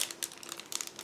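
Small plastic bag holding plastic hull parts for a Flyhawk 1/72 Pz.Kpfw II Ausf L Luchs model kit, crinkled by hand in quick, faint, close rustles.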